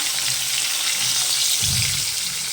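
Pomfret fish sizzle in oil in a pan, a steady bright hiss of frying with soft bubbling pops, close and continuous throughout.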